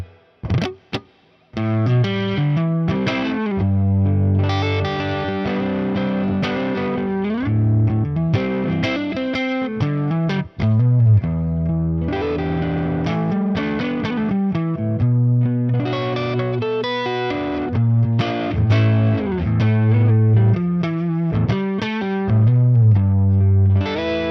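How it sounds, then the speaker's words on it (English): A Gibson Les Paul played on its neck pickup through a Friedman amp gives a dark, overdriven electric guitar tone. Sustained bends and chords alternate with quick licks, loud and continuous, with no talking. "I think the neck pickup of the Les Paul has a really nice dark tone"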